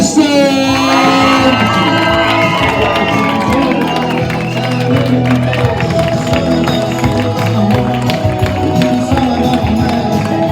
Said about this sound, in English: give a rousing cheer and a warm welcome for our newlyweds